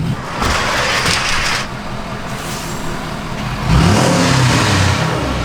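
A pickup truck engine revs loudly with a rough, whirring spin of one tire, the pitch rising and surging near the end.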